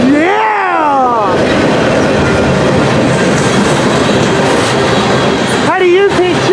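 Norfolk Southern locomotive 8076 leads a V18 freight train past at close range, a steady loud roar and rumble of wheels and cars running throughout, with a horn blast at the start and again near the end.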